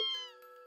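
A kitten's single short, clear meow in the video game Trails of Cold Steel, bright and tonal, heard close up with nothing else around it.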